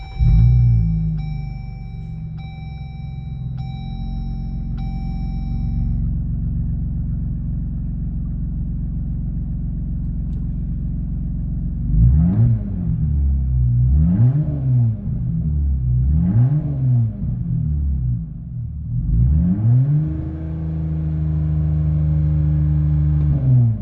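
A Jeep Gladiator fitted with a Flowmaster Outlaw Extreme exhaust, heard from inside the cab with windows up: a deep steady idle drone swelling into several loud revving bursts, then settling into a sustained rumble.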